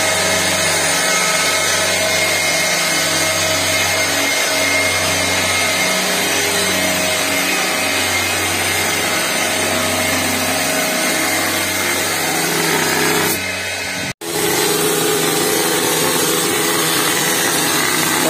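A new plaster and render spraying machine for cementitious mortar runs with a loud, steady mechanical drone and hum, briefly cutting out near the end before resuming.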